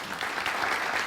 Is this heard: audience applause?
yes